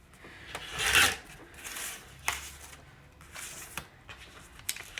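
A foundation paper pieced quilt block of fabric sewn onto paper is trimmed to size, with several close, rasping cutting strokes and scrapes across a cutting surface, one longer rub early on, separated by brief pauses.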